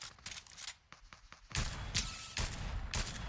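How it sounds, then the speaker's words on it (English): Gunfire in Fortnite Chapter 4: a rapid burst of shots comes first, then louder, heavier volleys fire repeatedly in short clusters, with no talking over them. "Yeah, there's guys shooting over here."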